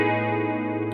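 A guitar runs through the 70s chorus effect on a Line 6 HX Stomp, a sustained chord shimmering steadily for a brief moment, close and clear with no voice.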